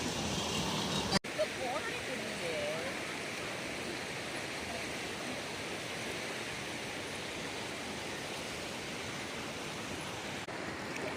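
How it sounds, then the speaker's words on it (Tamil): Water pours steadily down at Aliyar dam like a waterfall, a broad, continuous rushing roar that stays loud and even throughout, with a brief sharp knock near the start. "தண்ணி பாருங்கள் அருவி மாதிரி அழகாக கொட்டுது"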